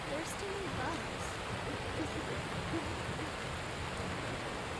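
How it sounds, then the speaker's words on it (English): Steady rain in the Skyrim video game, a faint, even hiss with no distinct drops, continuous throughout, with a few soft voice-like tones in the background. "So Gia takes some time to go outside and stand looking up at the rain."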